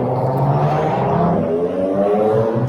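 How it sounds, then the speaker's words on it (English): Steady, loud rumble of car engines and road noise, continuous throughout without any pauses or voices. "loud cars"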